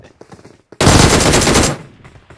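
Automatic gunfire in the PUBG Mobile video game, one sharp, loud burst of rapid shots lasting close to a second, set against quieter scattered clicks and game sounds before and after.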